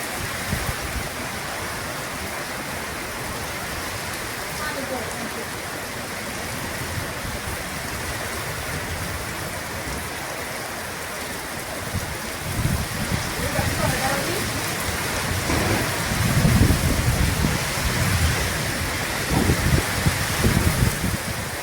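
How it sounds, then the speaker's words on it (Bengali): Heavy rain pours in a dense, continuous hiss during a windy village storm, steady throughout and swelling slightly louder toward the end. "শুধু নীরবে এই বৃষ্টির আওয়াজটা উপভোগ করুন"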